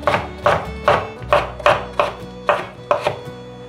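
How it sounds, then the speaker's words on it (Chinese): A knife cuts jicama into strips on a cutting board, eight crisp, evenly spaced chops landing about every half second, close and clear with nothing else heard. "把豆薯切片， 把豆薯切条"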